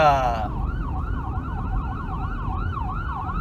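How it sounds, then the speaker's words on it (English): A loud wailing ambulance siren rises and falls steadily, close by, passing through a stoplight over the rumble of road traffic. "the ambulance is now passing in front of us through the stoplight"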